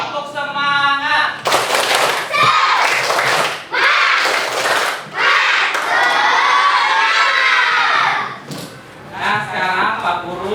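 Schoolchildren in a classroom do a rhythmic spirit clap, mixing sharp bursts of shouting and chanting with claps and thuds, loud and close, repeating in several waves with brief pauses between.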